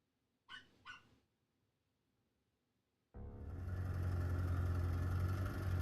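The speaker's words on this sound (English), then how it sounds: "There's a very unhappy yappy dog downstairs," A small, unhappy dog yaps twice in quick succession from downstairs, heard at a distance in a video game, followed by silence and then a loud, steady rumbling wash of noise.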